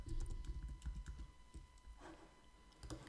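Quiet, fast typing on a computer keyboard, a steady run of soft key clicks with brief pauses, heard alone.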